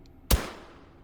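Integrally suppressed SPR 300 rifle fired once in the H3VR shooting game, a single muffled thump with a soft, quickly fading tail, fairly quiet and close.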